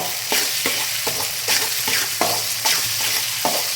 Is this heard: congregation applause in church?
no